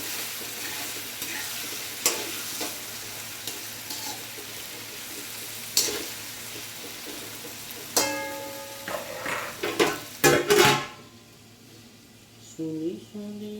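Potatoes fry in hot oil for an aloo-onion sabji, with steady close sizzling and repeated clanks as a spoon stirs the pan. A faint voice can be heard in the background before the frying sound briefly drops away near the end.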